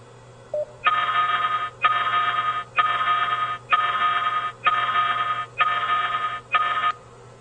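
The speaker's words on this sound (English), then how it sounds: "As you can see, it also played a warning sound." An InformaCast server plays a warning alert through Cisco IP phones: seven evenly spaced, sustained electronic tones, each under a second long with short gaps between them, loud and clear over a faint steady hum.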